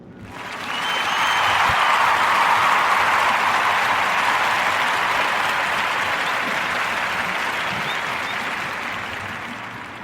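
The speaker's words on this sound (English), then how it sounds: "join me in giving a warm narrative round of applause" Warm audience applause for a podcast guest, a steady wash of many hands clapping that swells quickly and holds loud and even for about ten seconds before easing slightly, no voices over it.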